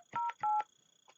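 Two distinct telephone keypad tones entering a mailbox number on an Avaya IP Office analog phone, each short beep clear and close, followed by quiet line noise.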